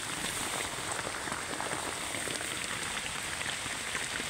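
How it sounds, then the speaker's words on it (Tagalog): Steady rain falls on a New Year's day at a street vendors' sheltered spot, a continuous even hiss of drops on surfaces with no talk over it. "Maulan na talaga. Maulang bagong taon ngayon."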